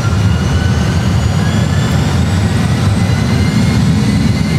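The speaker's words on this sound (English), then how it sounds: "set takeoff thrust." Airliner engines at takeoff thrust on departure from Madeira Airport, a loud, steady roar with a whining high tone, continuous and close from inside the aircraft.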